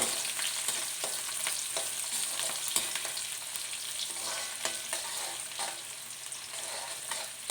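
Garlic and onion sautéing in oil with curry leaves for Chettinad brinjal kulambu, a continuous crackling sizzle with intermittent stirring scrapes, steady and close with no voices.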